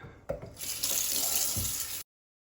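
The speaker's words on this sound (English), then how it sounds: "let's start with the rinse out." Tap water runs steadily over a geode being rinsed, a bright continuous splashing stream close by that starts abruptly and cuts off sharply after about two seconds, with no talking.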